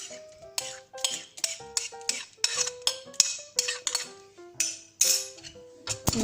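A utensil beats eggs with milk-soaked bread in a bowl for an egg-and-bread pizza, giving a steady run of close, bright clinks against the dish.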